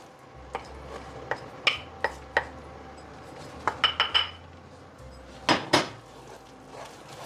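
Flour is stirred into boiling milk in a pot for cream puff dough, with a spoon clinking and tapping against the pot in scattered sharp knocks, some in quick clusters, over a quiet bubbling background.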